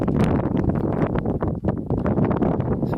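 Gusty wind buffeting the microphone on an open hillside above a ruined farmhouse in a valley, a loud, irregular rumbling roar with short lulls, no voices heard.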